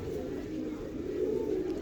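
Pigeon cooing in a low, continuous murmur, steady and fairly close against a soft background, with no talk over it.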